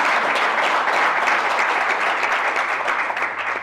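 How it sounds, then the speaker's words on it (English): An audience at a high-level meeting applauds, steady dense clapping from a large room that holds at full strength and begins to fade at the end. "Can't we applaud that, please?"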